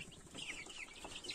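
Young broiler chickens in a shed cheep and cluck in quick, overlapping, high chirps, soft and nearby, with no talking.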